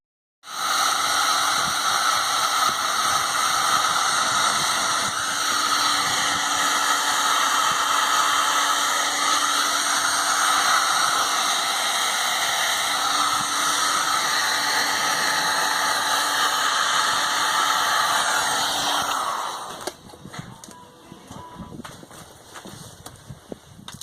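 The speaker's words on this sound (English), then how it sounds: "That was a heat gun you heard" A heat gun blows for about twenty seconds while heating a bearing race during crankcase reassembly of a Penguin engine, a loud, steady roaring hiss with a whine, then cuts off to quiet handling noises.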